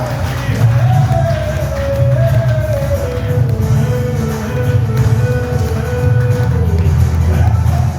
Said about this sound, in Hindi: तो मैडम के लिए फिर से जोरदार तालियां।